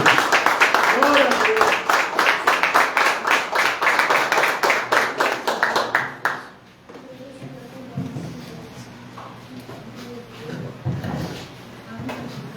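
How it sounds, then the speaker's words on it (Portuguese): A church congregation claps in a steady, rhythmic burst for about six seconds, loud and close, then it stops abruptly, leaving a quiet room with soft voices and faint movement. "Aplaude o nosso Deus Todo-Poderoso."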